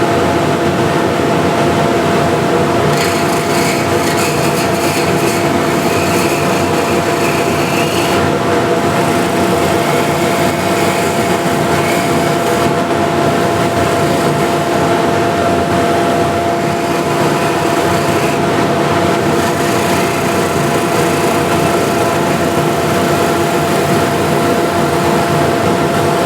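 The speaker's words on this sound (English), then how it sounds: "I can use a scraper or ball gouge, whatever I have here on hand, to trim this down" A wood lathe runs steadily with a loud, constant motor hum while a ball gouge trims the spinning wood, giving a continuous scraping hiss that roughens in a few stretches.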